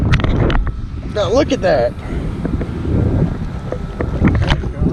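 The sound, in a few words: wind blowing on a fishing boat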